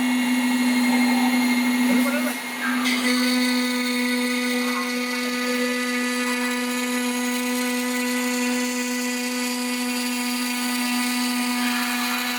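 A CNC router cuts a coaster profile out of HMR board in four 12 mm passes, giving a loud, steady high-pitched machine whine with a constant tone that runs throughout, briefly shifting partway through as the cut changes.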